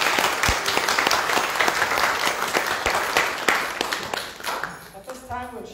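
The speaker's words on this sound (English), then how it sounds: "Let's give a big round of applause." A church congregation applauds during a Pentecost worship service, a crowd of hands clapping steadily with a few sharper individual claps, fading out toward the end as a voice begins.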